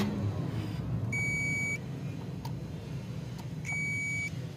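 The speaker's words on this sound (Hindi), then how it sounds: "इधर हमारा जो मल्टीमीटर है बीप दे रहा है" A digital multimeter gives two sustained continuity-test beeps while checking the main fuse of a 2022 Maruti Suzuki Alto, each tone lasting about half a second, heard over a steady background hum.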